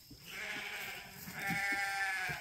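Young billy goats about a year and a half old bleat in a brushy pasture, several steady, moderately loud calls carrying over a constant outdoor background.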